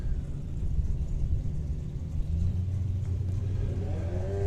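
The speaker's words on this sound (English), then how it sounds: "Wayne Saunders with a little Dragster taking on the last of the McClures." A small drag racing dragster engine rumbles and revs at a drag strip, a steady low roar that swells into a sustained higher-pitched rev in the second half, with no voices.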